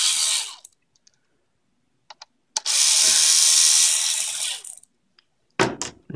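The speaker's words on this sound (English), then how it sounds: "we'll remove the four screws of the older drive." A power screwdriver backs screws out of an older drive in a RADAR studio unit, with a short whir, a long sustained buzzing run, and a final quick burst amid light clicks, close and loud.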